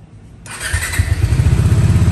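A fuel-injected motorcycle, such as an NS200, 160 FI or Dominar 400/250, starts after a quiet pause, with the engine catching abruptly and settling into a loud, close, pulsing idle.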